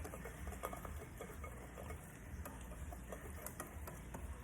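A utensil stirs a mixture in a bowl partway through mixing, making faint, steady, repeated scraping strokes close by with no talk.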